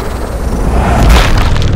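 A sniper rifle shot in the video game Sniper Ghost Warrior Contracts 2: a loud, deep, booming blast with a heavy low rumble that fills the short moment.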